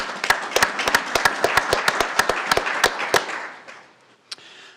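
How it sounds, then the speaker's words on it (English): A short round of applause at a city council meeting, sparse individual claps in a quick irregular patter that thins out and stops after about three seconds. "Round of applause for Stephen."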